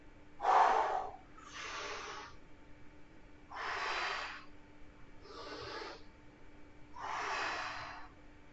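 Forceful exhales through the mouth during a standing weight exercise: five sharp, hissing breaths, evenly spaced about every one and a half seconds, close and fairly loud with no talk over them.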